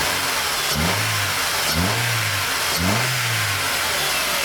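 A modified Vauxhall Corsa B engine revs in three sharp blips spaced about a second apart, each rising and falling with a raspy, spooled tone over a steady idle, close and loud with no talk.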